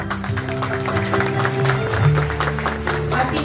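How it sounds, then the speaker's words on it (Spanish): Applause from the crowd at a 2022 graduation ceremony of Instituto Delfina Mejia, welcoming a guest to the main table, a steady wash of clapping over sustained background music. "lo recibimos con un fuerte aplauso"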